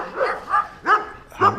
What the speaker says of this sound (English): have you heard what those dogs are doing?